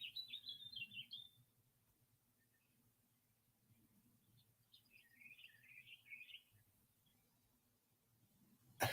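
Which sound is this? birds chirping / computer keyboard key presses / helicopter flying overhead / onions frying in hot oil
birds chirping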